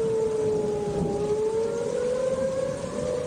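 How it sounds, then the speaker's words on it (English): A loud, steady tornado warning siren wails on a sustained tone that slowly shifts in pitch, with no other sounds. "Suddenly, a tornado warning is issued for your area, and the tornado sirens sound."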